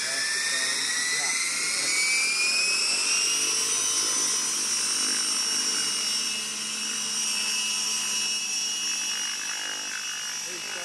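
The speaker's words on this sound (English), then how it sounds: "here you see us using the RC helicopter much like you would a crane" A steady mechanical whine of a small helicopter's rotors and motor runs throughout, with faint voices in the background.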